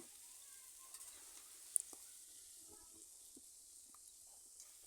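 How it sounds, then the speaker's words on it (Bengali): Bitter gourd and potatoes fry in a pan while being stirred. The sizzle is soft and faint, broken by a few light scraping knocks from the stirring. "এভাবে আমি কিছুক্ষণ লাড়িয়ে চাড়িয়ে করলা আলু ভেজে নিচ্ছি"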